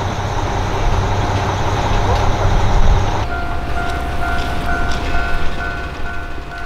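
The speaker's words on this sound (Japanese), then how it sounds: "入線してくる列車は鉄道娘のラッピング列車だそうです" A Kanto Railway train wrapped in Tetsudō Musume character art pulls into a station platform, a loud rumbling approach that settles into an idling hum with tones, a voice speaking over it.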